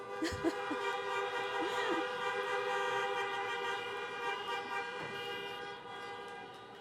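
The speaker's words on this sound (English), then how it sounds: "Honk some more, please." Many car horns honk together at a drive-in graduation ceremony in a sustained, overlapping chorus, steady and loud, with a few sharper toots standing out near the start.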